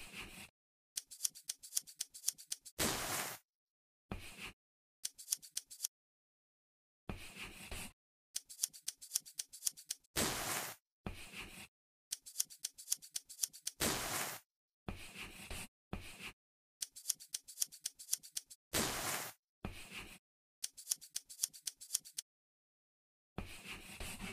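Snipping scissors cutting fabric for a purse in an Android sewing game, rapid crisp clicks in short bursts separated by silent gaps, each run ending in a brighter swish, close and clear.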